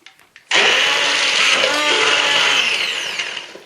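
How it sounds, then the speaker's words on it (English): A blender blending celery soup starts up abruptly and runs loud and steady, its whirring motor churning close by for several seconds, easing slightly toward the end. "I'm now about to blend."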